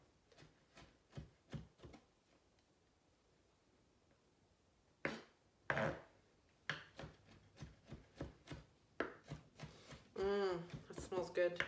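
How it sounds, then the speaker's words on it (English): Knife chopping garlic on a cutting board for moose burgers, quick sharp taps in short bursts, some clustered, close and moderately loud, with pauses and a few other kitchen handling sounds between them. "I'm just gonna mince this garlic"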